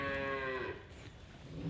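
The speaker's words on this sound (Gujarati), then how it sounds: "જો અમારા અનીશભાઈ છે, સેવા બહુ કરે ગાયોની," A cow at a cow shelter gives one clear, drawn-out moo that fades into quiet barn ambience, fairly close and alone with no talk.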